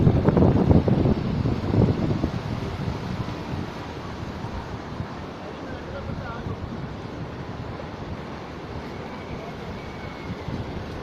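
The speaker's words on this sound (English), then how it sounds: "Look at that wind." Strong wind gusting across Tom Sawyer Island at Disneyland, loudest at the start and then settling into a steady, rough rumble of buffeting against the microphone.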